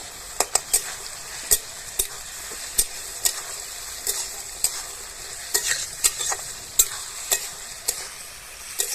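Masoor lentils being stirred in a hot frying pan, a soft steady sizzle broken by repeated scraping spoon strokes at an irregular rhythm, close and moderately loud with no voices.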